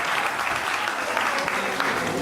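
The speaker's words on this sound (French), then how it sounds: "On applaudit très fort." Dense applause from an audience at a Côte d'Ivoire celebration for retiring mothers, a loud, continuous wash of many hands clapping throughout.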